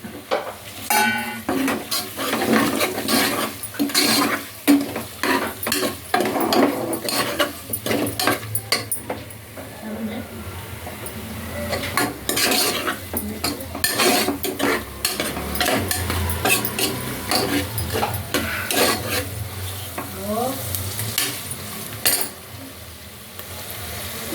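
Boiled boti and onion frying in oil in a pot, with frequent loud clanks and scrapes of a metal spoon stirring over a low sizzle, close up and continuous, with no voices.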